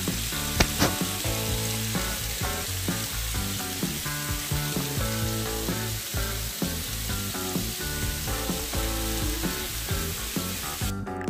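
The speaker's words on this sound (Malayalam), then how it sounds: "നമുക്കിതിൻ്റെ ടെമ്പറേച്ചർ കൂട്ടിയും കുറച്ചും ചിക്കനും ഗ്രിൽ ചെയ്തെടുക്കാം" Chicken sizzles and crackles on a Kenwood electric health grill, a steady dense frying hiss with small pops throughout, close and alone with no talking.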